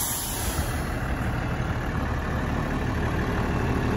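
A 2012 VW Constellation 19320 truck with 95,000 km idles at close range, a steady, even diesel rumble with a constant hiss and no voices over it.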